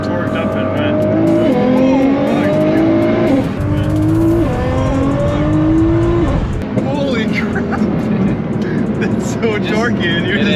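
A Nissan GT-R R35 making 980 wheel horsepower revs hard and climbs steadily through the gears, loud and close, with tires briefly squealing and no talk over it.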